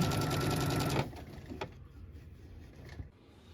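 Sewing machine stitching along piping on a toddler dress, a steady fast mechanical whirr for about a second that then gives way to quieter handling and fabric sounds.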